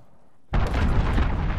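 A cruise missile detonates in a military shooter game: a sudden loud, close explosion bursts out of near silence and rumbles on with sustained crackling debris.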